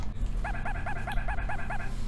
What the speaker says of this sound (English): Bark, bark. That poor dog is roasting alive.